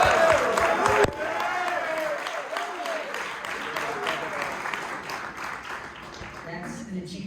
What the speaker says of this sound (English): you got to give him a round of applause.